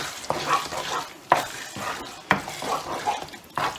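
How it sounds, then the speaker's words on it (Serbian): A spoon stirs fried mushrooms into a pumpkin risotto in a pan, giving a soft wet churning with sharp scrapes against the pan about once a second, alone and close. "Dodajem ja u mojoj varijanti ove pržene šampinjone."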